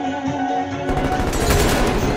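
Rapid automatic gunfire from a kill streak in a shooter video game erupts suddenly after a short tonal lead-in, a dense loud burst of shots lasting about a second.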